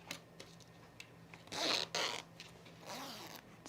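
A metal zipper on a sewn men's utility jacket is drawn open in a short, scratchy run, then a softer pull follows, close and distinct in a quiet room with no talking.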